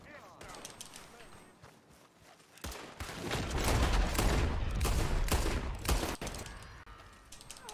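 Gunfire in the Western video game Red Dead Redemption 2, a loud, sustained burst of rapid shots and a fusillade that swells midway and keeps cracking, with a voice talking over it.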